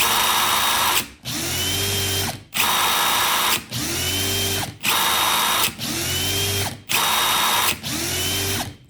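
A DeWalt compact power drill runs in seven short bursts of about a second each, whirring loudly and steadily with a brief stop between each trigger pull.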